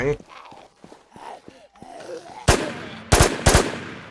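Gunfire in the video game WarZ Siam MMO, with a few loud sharp bursts near the end after a stretch of talking, gasps and movement.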